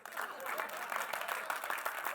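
An audience at a film trailer launch event applauds, a dense wash of clapping from many hands that carries on steadily at moderate loudness, with voices faintly audible underneath.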